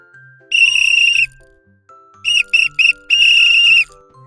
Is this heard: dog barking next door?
no